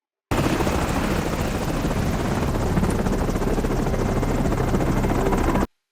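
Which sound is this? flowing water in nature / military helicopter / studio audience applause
military helicopter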